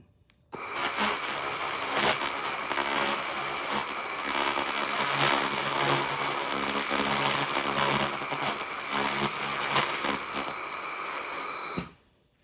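An XLaserLab X1 Pro 3-in-1 laser welder welding at 40% power and 8 mm width, a loud continuous buzzing hiss with a high whine that starts abruptly, holds steady for about eleven seconds, then cuts off.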